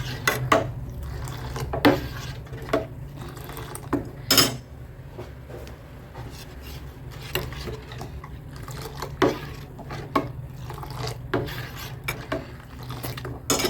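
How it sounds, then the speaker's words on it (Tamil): A spoon stirring black urad dal porridge in a pot, with scattered scraping clinks and knocks against the metal over a low steady hum, close and without talk. "கை விடாமல் கிண்டிகிட்டு இருங்க."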